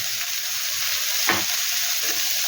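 Spiced chicken filling with black pepper and chaat masala stirred and frying in a pan, a steady close sizzle with one brief louder scrape of the spoon midway.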